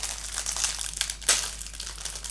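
Plastic packaging of Asian sweets being opened, close crinkling and crackling rustles with one sharp louder tear partway through, heard alone.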